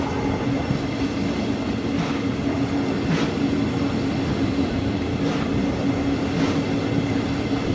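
An S-Bahn class 484 train arriving at platform 2 on line S47 toward Spindlersfeld, a steady rolling rumble with a sustained low hum and occasional faint clicks, continuous and fairly loud throughout.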